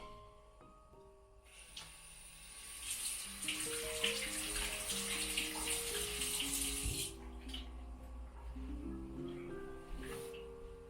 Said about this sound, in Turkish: Hemen elimi yıkayayım ufaktan.